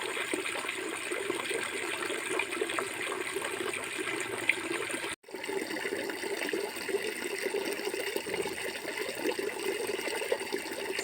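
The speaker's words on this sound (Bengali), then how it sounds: "খাবার জল ভরছি রান্নার জলটা ভরে নিই" Water runs steadily from a tap into a container, filling drinking and cooking water early on a dark morning. The flow is a continuous close trickle and gush with a brief break midway, and no voices are heard.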